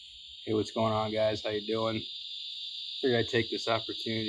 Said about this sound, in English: We do got the cicadas, so if you hear them in the background, I apologize,